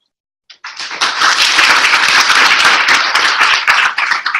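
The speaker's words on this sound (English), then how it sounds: "there's like a massive applause here." After a talk on growth hacking, a large audience erupts into loud, sustained applause that starts abruptly from silence and stays dense and close, sharp individual claps standing out throughout.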